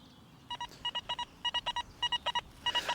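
A metal detector sounds its signal for a clean target in a UK field, a series of crisp, evenly repeated electronic beeps in short bursts over a quiet background.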